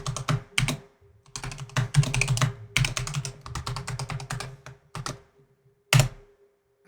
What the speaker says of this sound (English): I'm going to type in the root password of the other host.